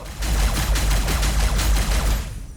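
Rapid gunfire volleys from troops blasting away in Warhammer 40,000: Battlesector, a dense, loud continuous fusillade of overlapping shots with heavy low rumble for the whole stretch, no talk.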